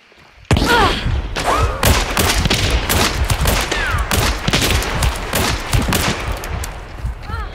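Gunfire in the video game Hunt: Showdown, a loud rapid burst of repeated shots and thumps after a brief quiet start, dense and continuous, with a voice talking over it.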